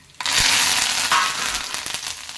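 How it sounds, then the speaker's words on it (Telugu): Curry leaves dropped into hot oil for a tempering while sambar is made, bursting into a loud, close, steady crackling sizzle that flares at the start and stays strong, with no talk. "ఇప్పుడు కరివేపాకు లాస్ట్ని వేసుకోవాలి."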